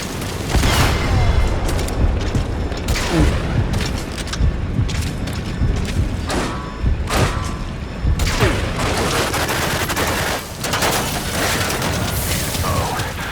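Helicopter cover fire in Metal Gear Solid V: dense, continuous bursts of automatic gunfire and booming explosions pound without a break, loud and close, with mechanical clatter mixed in throughout.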